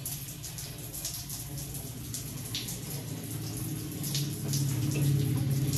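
Water running from a tap in a steady hiss, growing slightly louder toward the end, close and continuous.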